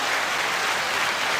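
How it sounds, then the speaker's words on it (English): Steady, dense applause from a podcast event audience fills the moment at full strength, with no pauses or distinct claps standing out. "All right, applause."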